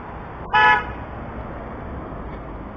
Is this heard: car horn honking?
yes